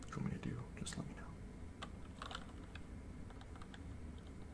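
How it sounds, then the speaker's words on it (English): Typing on an MSI Vigor GK30 keyboard, scattered quiet key clicks at an uneven pace under soft whispered speech, close and hushed. "This is an MSI Vigor GK30 keyboard, I believe."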